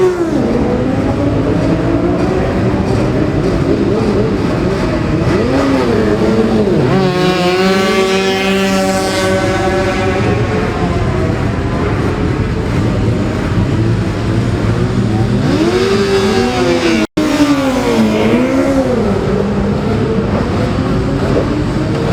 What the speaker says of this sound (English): There's Chris Swallow, number 30 on the Halewood replica Ducati, which we looked at in Parc Fermé.